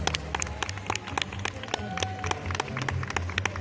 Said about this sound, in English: a big round of applause for these folks tonight